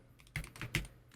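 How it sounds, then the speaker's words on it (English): A few quiet keystrokes on a computer keyboard while an address is typed, two or three soft clicks over a low background hum. "and then type in the address bar"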